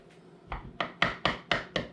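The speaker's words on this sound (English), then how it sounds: "chopping up the butter here." A knife chops butter on a board in six quick, evenly spaced thuds, growing slightly louder, close up with no talking.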